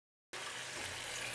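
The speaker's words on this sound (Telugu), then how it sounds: "ఇక్కడ నేను చన్నీళ్ళే పోస్తున్నానండి" Cold water gushes in a steady, close pour into a pot of cooked rice that has gone firm. It starts abruptly after a short silence and runs continuously.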